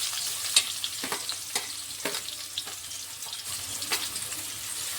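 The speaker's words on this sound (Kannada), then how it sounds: "ಇವಾಗ ನೋಡಿರಿ ಎಣ್ಣೆ ಬಿಸಿ ಆಗೈತಿ. ಇವಾಗ ಈರುಳ್ಳಿ ಹಾಕ್ಕೊಳ್ಳೋಣ ಫಸ್ಟಿಗೆ." Onions frying in hot oil in a pan for a spinach and sprouted green gram stir-fry, a steady soft sizzle with occasional stirring clicks and scrapes, close and alone with no talk.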